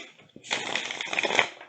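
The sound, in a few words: shuffling a deck of ghost tarot cards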